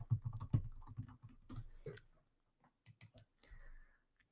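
Computer keyboard typing at a desk, quick soft clicks and taps in irregular bursts with a pause in the middle, faint and close.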